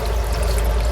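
Water drains steadily out of a tank in a short, continuous rush, a dense pouring gurgle with a low rumble underneath, close and even throughout without any talking.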